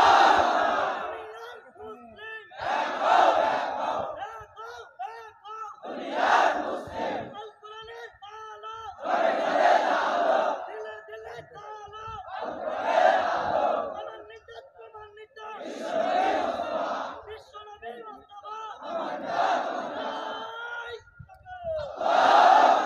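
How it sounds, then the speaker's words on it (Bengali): A crowd roars takbir chants in loud, repeated collective bursts, each swelling shout separated by short pauses, all through a religious gathering with no other voice over it. "জোরে তাকবীর দাও।"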